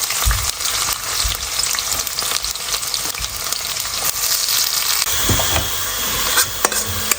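Onion sizzles in hot oil with bay leaf and cumin for a homemade chicken pulao, with a steady crackling fry broken by occasional scrapes and stirring knocks of a spoon against the pan.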